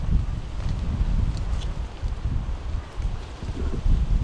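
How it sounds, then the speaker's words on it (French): Strong wind gusting through a garden beside a greenhouse on a cool autumn day, a steady low rumble of buffeting against the microphone with faint rustling, rising and falling in gusts, no voices. "il y a beaucoup de vent"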